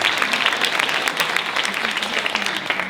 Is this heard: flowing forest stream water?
no